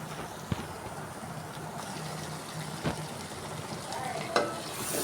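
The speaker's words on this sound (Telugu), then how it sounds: "దోసకాయ ముక్కలు వేసేస్తున్నాం ఉల్లిపాయ ముక్కలు వేగుకొని ఎర్రగా" Cucumber pieces sizzle in oil with onions that were already fried red, making a steady frying hiss close by. A few sharp clinks of the stirring spoon rise above it, and no one talks.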